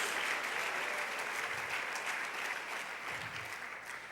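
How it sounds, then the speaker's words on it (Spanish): A church congregation claps in steady, sustained applause that fills the room, gradually easing slightly toward the end, with no talking over it. "Denle ese aplauso a la gloria de Dios."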